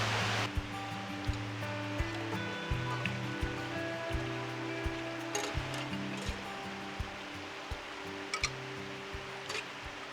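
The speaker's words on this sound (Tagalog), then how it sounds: "Hugasan muna natin itong mga pinagkainan dito sa may ilog" River water rushes steadily at Mangatarem River while dishes are washed by hand at the bank, a continuous close wash of broadband noise with low humming tones running underneath.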